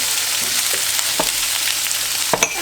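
Onions and bacon lardons, cut in large chunks, browning in a pan with a steady close sizzle and a few sharp utensil scrapes and clicks against the pan.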